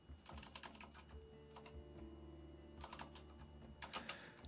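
Computer keyboard keys typed in quick bursts with short pauses while writing code, close and moderately quiet against a faint steady hum.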